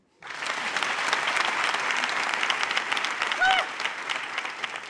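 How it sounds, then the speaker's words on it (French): A comedy club audience breaks into sustained applause after a sudden start, a broad, loud wash of clapping with a few faint voices and cheers mixed in. "Applaudissez-vous."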